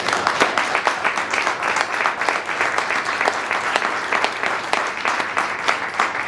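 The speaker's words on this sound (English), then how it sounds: "big round of applause for getting up and" A big round of applause from a live audience at a family discussion about PTSD, steady dense clapping filling the room throughout with no voices over it.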